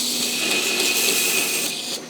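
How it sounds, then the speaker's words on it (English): Steady, loud abrasive hiss of sanding on a forged steel chef knife blade, continuous and close for about two seconds before tapering off slightly. "now I'm going to give it a quick sand and watch what happens"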